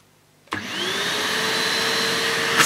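A Numatic Jack vacuum cleaner switches on with an abrupt click, its motor rising into a steady whine and hum that runs close and continuous.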